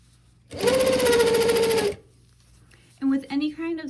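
A sewing machine stitches stretchy jegging-style skinny pants in a steady, loud run of about one and a half seconds, then stops; a voice speaks briefly afterward.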